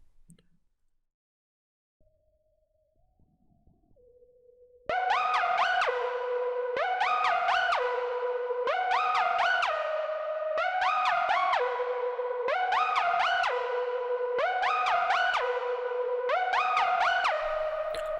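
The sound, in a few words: LD Screaming Glider synth pattern from Muddy Cups Volume 2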